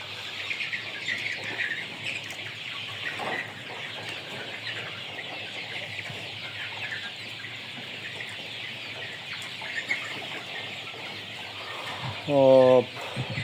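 Chickens and roosters in a poultry house make a steady background of clucking and chirping, with a louder, close burst of calls near the end.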